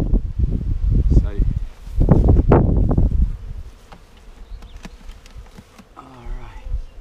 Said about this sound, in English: It's a lovely number of bees in there.